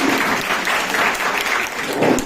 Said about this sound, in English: Please give the hugest possible round of applause